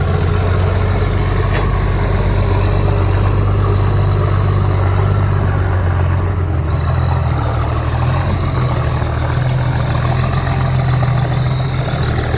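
A modified dump truck from Surin idles loudly and close by, its heavy engine holding a steady, deep rumble throughout with no speech.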